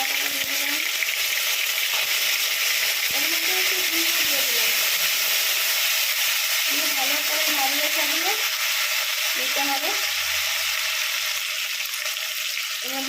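Spices tempering in hot oil in a pan give a loud, continuous sizzling hiss, close and steady throughout, with someone speaking over it at intervals.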